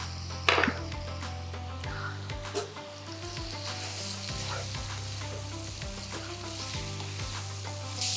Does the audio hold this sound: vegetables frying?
yes